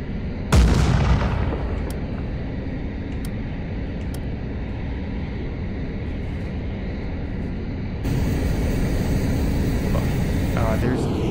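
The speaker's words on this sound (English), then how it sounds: "I wonder if I can fire this missile without a lock-on." A missile launches from an aircraft in the combat flight game Nuclear Option: a sharp loud burst, then a steady roaring rush of jet and engine noise that swells again near the end.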